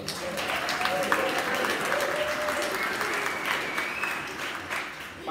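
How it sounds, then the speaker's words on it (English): Guests at a wedding ceremony applaud in a steady, dense wash of clapping that holds for several seconds, with faint voices and cheers mixed in beneath it. "So another big round of applause."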